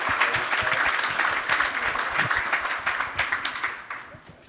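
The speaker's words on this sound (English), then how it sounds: "can we first give a round of applause to the amazing insights from our panelists?" An audience at a technology panel discussion applauds the panelists, a dense, steady wash of many hands clapping that tapers slightly toward the end.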